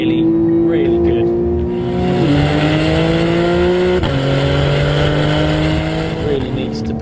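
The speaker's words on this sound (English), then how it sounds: "It's also got a sports exhaust, so it sounds really, really good." A 2012 Porsche 911 Carrera with the 3.4-litre engine and sports exhaust pulls loud and close, its tone climbing through gears with distinct drops at each shift.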